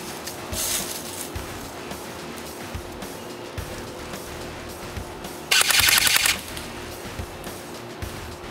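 An A&K SPR-L airsoft electric gun fires a short full-auto burst, a rapid buzzing rattle of shots lasting under a second, preceded by faint quiet handling noises.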